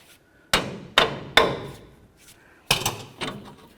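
Hammer blows struck on top of a tie rod on a 2004-08 Ford F-150 front suspension, three sharp metallic hits in quick succession, a pause, then a fourth ringing strike, close with no talk.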